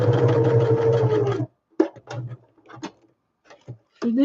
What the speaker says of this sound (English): For this one, I'm again just stitching around the edges for contrast.